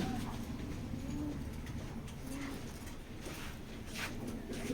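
Racing pigeons in a cage give soft, low cooing amid a steady background hum, faint and somewhat distant, with occasional rustles and light chirps.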